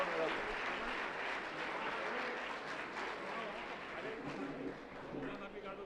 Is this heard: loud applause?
yes